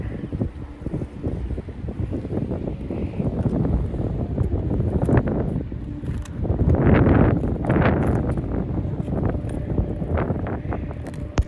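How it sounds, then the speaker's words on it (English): A jet boat engine drones on the Yellowstone River, swelling louder as it passes nearby, with wind rumbling across the microphone throughout. "Another fella out there on a jet boat"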